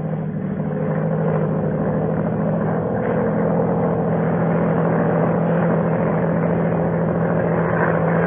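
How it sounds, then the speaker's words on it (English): A monoplane's engine drones steadily as a sound effect in a radio drama, a loud, continuous propeller hum with a low steady tone that holds for the whole stretch, with no voices over it. "Low down in the south, a monoplane was climbing into the heavens."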